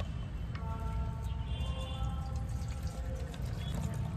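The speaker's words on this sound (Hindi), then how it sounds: "और इसमें हम 2 लीटर पानी डाल देते हैं।" Water being poured into the tank of an upholstery vacuum cleaner to mix a two-litre cleaning solution, a steady close trickle and splash running continuously with no talk.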